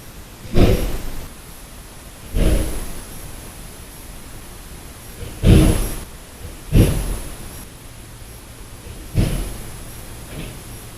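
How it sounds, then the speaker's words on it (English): Doors apparently slam in a hotel at night, captured in a quiet recording: six separate dull thuds spaced irregularly over about ten seconds, each short and muffled above a steady hiss of boosted background noise. "We were thinking maybe those were doors slamming."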